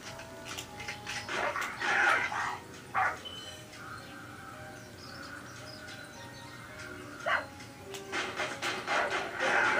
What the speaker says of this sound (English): Dogs are so stupid in this game.